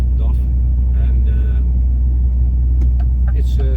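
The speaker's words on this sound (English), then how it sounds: "with an 11 liter MX motor from Paccar, and it delivers 410 horsepower" Continuous deep engine drone of a DAF CF truck with a 410-horsepower 11-litre Paccar MX engine while driving, heard from the cab under intermittent talking.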